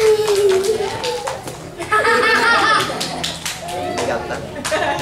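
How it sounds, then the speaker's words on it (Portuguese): Children and adults at a bookstore magic show clap in scattered bursts mixed with laughter and chatter, lively and close, with talking throughout. "Palmas para mim."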